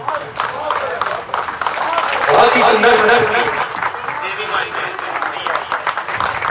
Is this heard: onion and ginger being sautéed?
no